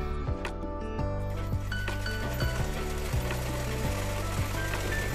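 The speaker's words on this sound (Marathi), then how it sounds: "हे दंडघेराकडे आपण शिलाई मारतोय" A sewing machine runs steadily, stitching a hem on a blouse sleeve with a rhythmic mechanical clatter of needle and gears, close and continuous, with a few sharper clicks along the way.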